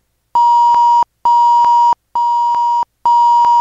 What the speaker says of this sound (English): This is gonna come as a beep.